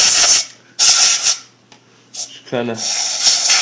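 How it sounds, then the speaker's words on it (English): Sharp hissing spray bursts are aimed into the push button of a camera water housing to clear out trapped water. There are three blasts with pauses between them, and a voice speaks briefly in one gap. "spray it inside of where it pushes out to get any of the water that was trapped"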